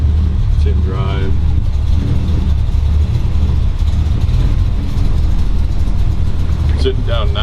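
A 1935 Ford Deluxe rumble seat roadster with a 383 Tri-Power engine and a 350 transmission drives at low speed, its deep, steady engine rumble loud and constant while someone speaks briefly over it.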